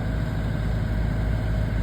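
A sailboat motoring under engine power between a small island and rocks, its engine giving a steady, continuous low drone with no voices.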